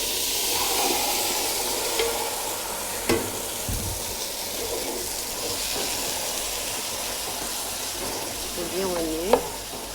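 Lamb pieces searing in a hot pot for a Martinique colombo, with a steady sizzle and frying hiss running throughout and occasional scrapes and clinks of stirring, close and continuous without talk.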